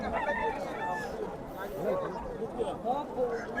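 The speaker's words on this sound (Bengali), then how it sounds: "এটা আমার মুরগি।" A rooster at a cockfight crows in drawn-out, wavering calls amid clucking fowl, heard under nearby conversation and general crowd murmur.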